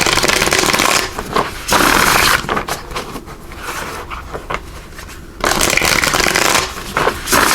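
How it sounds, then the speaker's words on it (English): Light Seers Tarot cards shuffled by hand, a loud, dense riffling and flapping that comes in bursts, quieter stretches of softer handling between them, with no speech. "we're going to pull some cards here from the Light Seers Tarot"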